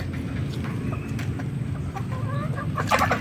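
Backyard chickens cluck in short, irregular bursts close by, a rooster-and-hen flock on a small farm, with a louder flurry of clucking near the end over a steady outdoor background.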